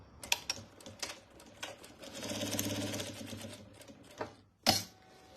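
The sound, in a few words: sewing machine stitching a quilted fabric basket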